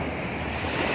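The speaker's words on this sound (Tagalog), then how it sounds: "Yan na yung dagat." Sea waves wash steadily against the shore as wind buffets the microphone, a continuous broad roar with no pauses and no voices.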